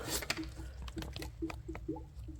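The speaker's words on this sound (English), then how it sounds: "You can hear it bubbling a little bit, but every time you squeeze that, you hear the bubbles." Coolant bubbles and gurgles softly inside a BMW 440i cooling system while its hose is squeezed during water pump replacement, giving a series of faint, close liquid squelches and drips at an uneven pace.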